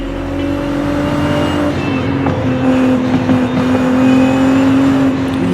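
Nissan GT-R R35 engine in a racing video game, a steady loud drone with a constant pitch and slight swells, running continuously with no voices.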